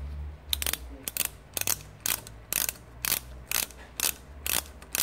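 An 8 mm socket on a ratchet wrench backing out fasteners on a GY6 scooter engine during a big bore kit install: a series of about ten rapid, close ratcheting clicks in short bursts with brief pauses between strokes.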